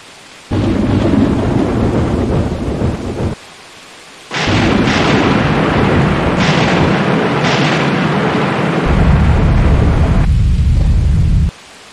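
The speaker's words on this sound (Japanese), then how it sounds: "しかし嵐も地鳴りも広がるばかり" Storm and rumbling thunder in the Grandia 2 HD Remaster game: loud, heavy rolling bursts with a short silent gap, then a long sustained roar that keeps booming close and deep.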